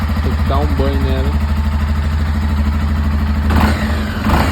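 Honda XRE 300 motorcycle started after sitting four days, its engine running steadily and close by with throttle blips near the end, while people talk over it.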